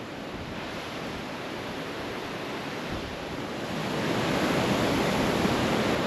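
A tall multi-stage waterfall in a mountain gorge roars as a steady broadband rush, loud and continuous, swelling a little stronger partway through with no voices.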